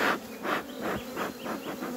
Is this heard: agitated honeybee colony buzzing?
yes